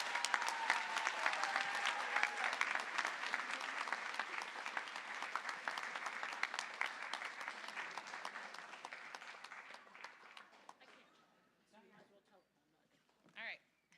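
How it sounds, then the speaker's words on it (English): Sustained applause from a large audience at a junior high awards ceremony, dense clapping that gradually thins and fades out toward the end. "let's give her a round of applause again"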